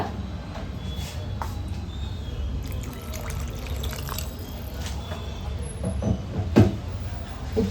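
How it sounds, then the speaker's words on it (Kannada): Water poured into a cluster bean gravy cooking in a pan, a steady trickling splash with occasional drips and clinks, close up, faint sounds of activity behind it. "ಸ್ವಲ್ಪ ನೀರು ಸೇರಿಸ್ಕೊಳ್ಳೋಣ ಈಗ"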